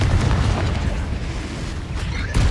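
A Confringo blasting spell in Hogwarts Legacy explodes with a sustained, rumbling boom that fills the whole moment, loud and close, with a sharper burst right at the end.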